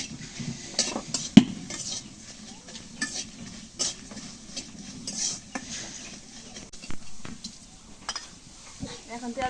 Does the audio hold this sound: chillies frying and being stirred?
yes